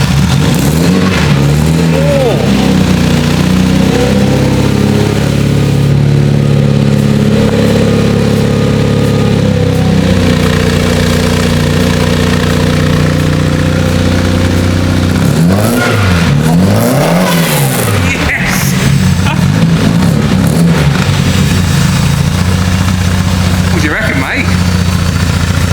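Supercharged Porsche 924 engine with a custom stainless exhaust starting up for the first time and idling loud and close, with revving swells throughout and people talking over it.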